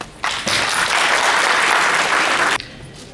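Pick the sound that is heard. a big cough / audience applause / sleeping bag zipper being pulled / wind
audience applause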